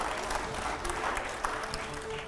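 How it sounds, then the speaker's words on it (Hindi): Studio audience applauds at a televised political debate show, a steady wash of clapping that fills the whole stretch at moderate loudness, with no talk over it. "आप जोरदार तालियों से अगले सवाल का स्वागत करिए"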